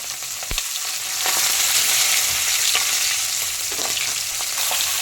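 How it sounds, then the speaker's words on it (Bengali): Pieces of charapona fish fry in hot oil, a loud, continuous spitting sizzle that swells after a moment, with a few sharp clicks and stirring touches from a utensil, close and without voices. "মাছটা ভেজে নিলাম।"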